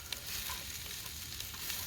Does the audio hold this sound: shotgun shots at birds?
no